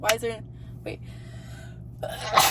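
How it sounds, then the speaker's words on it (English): A single sharp sneeze bursts out at the start, followed by quiet breathy noise and another loud burst near the end. "Sneeze."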